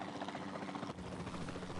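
A helicopter in the video game Jurassic World Evolution 2 gives off a steady, dense rotor drone that stays loud and even throughout the short stretch, with no voices over it.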